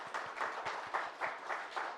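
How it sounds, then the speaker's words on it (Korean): A Sunday morning church congregation gives the choir a brief, faint round of applause, a few people clapping in an uneven rhythm for about two seconds. "성가대원들한테 박수."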